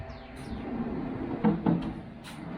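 A homemade plywood cargo drawer in the back of a Lexus GX460 sliding open, a soft wooden scrape and two quick knocks as it moves, heard close over a faint background hiss.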